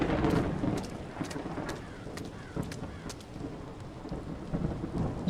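Steady heavy rain falls with rumbling thunder and sharp crackling cracks in the video game The Séance of Blake Manor, a dense, continuous storm wash without talking.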